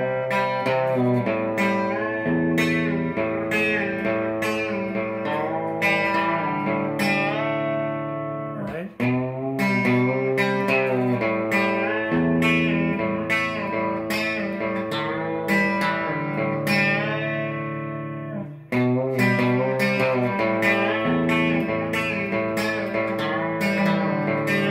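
A guitarist plays a song on guitar, sustained melodic lines with bent, ringing notes and slightly distorted tone, continuous and prominent with two brief breaks between phrases.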